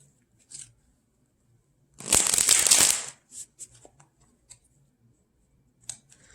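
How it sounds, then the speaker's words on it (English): A quick riffle of tarot cards lasts about a second, followed by a few soft taps and clicks as the deck is handled in quiet. "Let's do a shuffle here."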